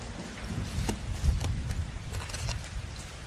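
A cartoon thunderstorm breaks out in open country. Steady hissing rain mixes with low rumbling thunder and a few sharp cracks, loud and close, with no voices.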